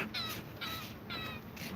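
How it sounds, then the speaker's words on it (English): A crow caws three times in a steady rhythm, loud and fairly close, outdoors at a lakefront park with light background noise and no talking. "And there's a bird singing there."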